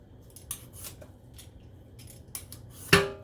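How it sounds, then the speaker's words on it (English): A kitchen knife slices through a cucumber on a board, making several soft crisp cuts at uneven intervals and then one sharper, louder chop near the end, close by and quiet. "all I'm doing is slicing it back and forth"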